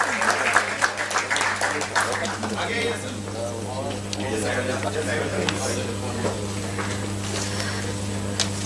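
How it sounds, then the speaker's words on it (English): Audience applause at an international conference valedictory session, scattered clapping that is busier at first and thins out, with a person speaking over it and ambient hall noise. "Big round of applause"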